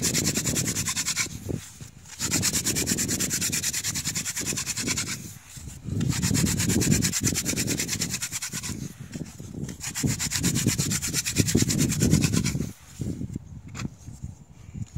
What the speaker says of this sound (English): You can also use this limestone, almost like sandpaper, to grind away the spindle tip.